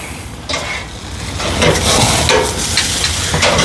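Sausage frying on a Monument grill, a steady broadband sizzle and crackle that swells after the first half second and holds loud and close throughout.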